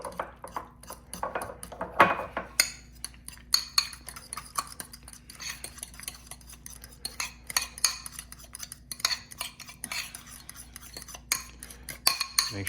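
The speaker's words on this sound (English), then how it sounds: "All right, so I'm just gonna give this a quick" A utensil stirring caviar chip dip in a bowl, giving quiet, irregular clinks and scrapes that repeat steadily, close up with no talking.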